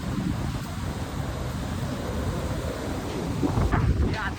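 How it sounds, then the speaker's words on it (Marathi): Strong wind buffets the microphone in a steady low roar at the seashore, with surging waves faintly mixed in and a slightly louder gust near the end. "हे आता वेंकटेश्वर लाव वारा वगैरे मजबूत सुटले बघा. लाटा बघा,"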